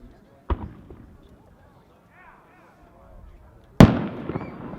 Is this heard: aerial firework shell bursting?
yes